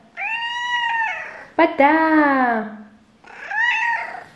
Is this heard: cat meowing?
yes